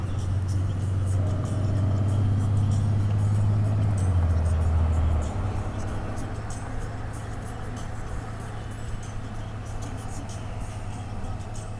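Honda Goldwing F6B motorcycle riding on the road, a steady low engine drone that is louder and fuller for the first five seconds, then settles to an even cruising hum with road and wind noise.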